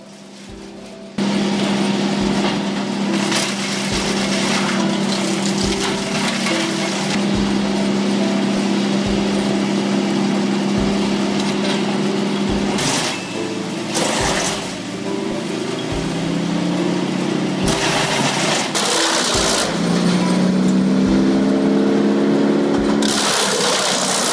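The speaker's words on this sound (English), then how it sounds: "It continuously shreds tree trunks up to 30 centimeters in diameter into sawdust in seconds." A wood chipper shredding tree trunks up to 30 cm across into sawdust: a loud, steady engine drone with a regular pulsing beat, its pitch shifting and straining midway as wood feeds through.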